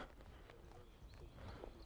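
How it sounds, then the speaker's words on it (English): A horse trotting over poles in a riding-school exercise, its hoof beats coming as soft, muffled thuds in a steady rhythm against a dull, continuous background. "Right forward in the trot here, make sure he's stretching over the poles."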